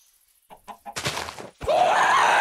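Chickens in Minecraft, with a few short clucks followed by a louder, sustained squawking flurry, close and sharp against otherwise quiet surroundings.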